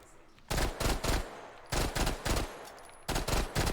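Gunfire in a video game comes as three loud, close bursts of rapid shots, each lasting about half a second with short pauses between them, without any talk.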